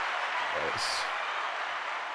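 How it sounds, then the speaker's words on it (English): A round of applause fills a radio studio during a music show. The steady, fairly soft clapping runs throughout, with brief voices rising over it. "give all that a round of applause"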